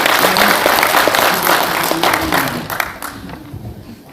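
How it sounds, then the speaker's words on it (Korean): A hall audience at a special lecture and general assembly claps loudly to welcome a speaker, dense applause that gradually thins and fades toward the end. "큰 박수로 환영해 주십시오."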